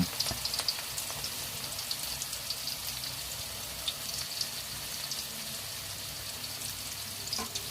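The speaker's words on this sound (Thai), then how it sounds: "หอมแดง 70 กรัมคลุกแป้งทอดกรอบ3ช้อนโต๊ะ น้ำมันร้อนลงทอดได้เลยครับ" Shallots coated in crispy batter flour fry in hot oil over medium heat, giving a steady, even sizzle and fine crackle that carries on without pause and without talk.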